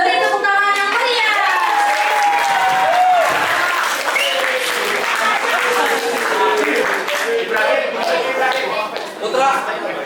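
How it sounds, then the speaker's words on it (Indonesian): A school audience at an Islamic senior high school performance gives loud, sustained applause, dense clapping filling the hall throughout, with cheering and children's voices mixed in. "Beri tepuk tangan yang meriah."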